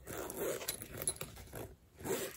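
Zipper pockets on a crossbody bag being worked open, quick scratchy zip strokes and light rustling close by, with a brief pause before a final pull.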